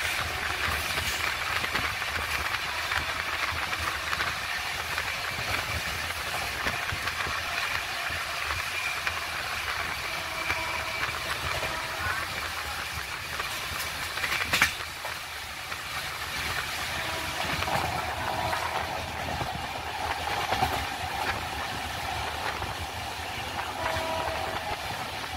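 Howrah to Haridwar Kumbh Express 12369 train runs steadily, a continuous rushing roar and hiss heard from inside the carriage, with faint rhythmic clatter from the wheels and one brief louder bang midway.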